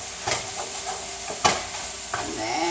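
Gnocchi and vegetables stirred in a pan with a chicken base, giving a few scraping, sizzly strokes over a steady low frying hiss, fairly close and with no talking.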